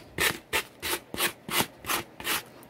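Sandpaper rubbed by hand over the sides of a plaster belly cast to smooth it, giving seven even rasping back-and-forth strokes, close and clear with no talking.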